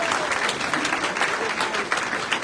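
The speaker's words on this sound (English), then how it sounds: "All the applause right here." Audience applause at a Best of Jackson award ceremony, a steady, lively burst of crowd clapping with some cheering, fairly loud and continuous from start to end.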